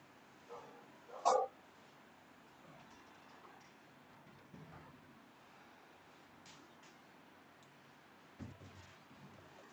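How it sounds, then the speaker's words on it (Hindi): Dogs bark in short, distant bursts near a quiet studio, a couple of faint yelps standing out against a low background hiss. "कुत्ते बहुत हैं आसपास,"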